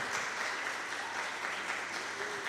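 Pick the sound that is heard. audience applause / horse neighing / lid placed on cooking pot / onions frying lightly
audience applause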